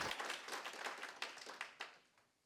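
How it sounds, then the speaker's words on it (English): Audience at an international forum gives a short, thin round of clapping for a speaker, a few distinct claps fading quickly into quiet. "Could we have a round of applause, big round of applause for the speaker"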